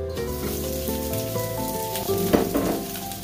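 Leftover liempo pork belly hits a pan over high heat, giving a close, crackling sizzle of hot oil with sharp spits and pops that grow louder near the end. Steady background tones run underneath, and no one speaks.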